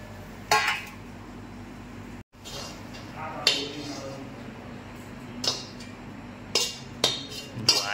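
Roasted bajra flour sukhadi in ghee is scraped from the pan onto a plate, with sharp metallic clinks and scrapes at irregular intervals over a low background hum.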